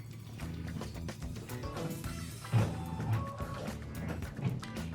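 An embroidery machine stitches a batting placement line on a quilted project in the hoop, giving a steady, fairly quiet mechanical whir with a rapid needle rhythm and a few sharper knocks partway through.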